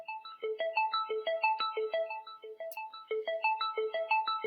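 DingTalk call ringtone playing from a phone: a bright, repeating melodic pattern of short tones in a steady looping rhythm, clear and close with no talking over it.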